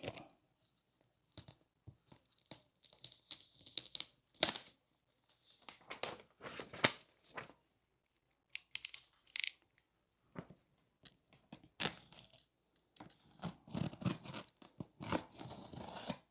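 Cardboard packaging around a Kia Stinger car part being cut and torn open, a string of close, crisp tearing and crunching bursts with brief pauses between them and no talking.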